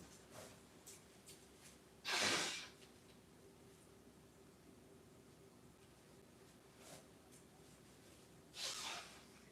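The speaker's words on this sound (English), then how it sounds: "I gotta blow my nose before I do this" A person with a cold blows their nose in two short, forceful bursts, one near the start and another near the end, with quieter sniffs and breaths in between against a faint room hiss.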